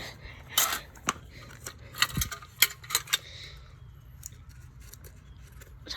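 Tape being pulled and applied to John Deere model parts during a repair: sharp, close crackles and snaps in short irregular bursts, then softer scattered clicks.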